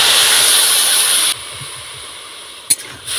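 Sugarcane jaggery and a little water hiss loudly as they heat in a pan for sweet-sour mango pickle; the strong sizzle drops to a softer hiss partway through, broken by a brief sharp clatter.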